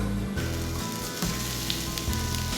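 Onions frying in grapeseed oil in a hot pan for a homemade wagyu Camembert burger give a steady, close sizzle with no talking.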